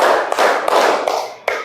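Pupils in a classroom clap together on command, producing a steady series of about five crisp group claps evenly spaced, close and loud, with no talking.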